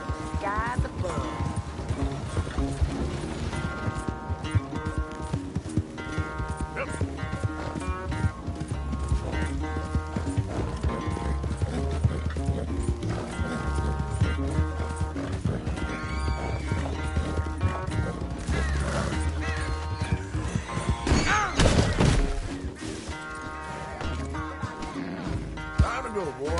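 In Red Dead Redemption 2, a horse's hooves clip-clop steadily while it carries its rider. A neigh or two rises over the hoofbeats, and speech and music play underneath.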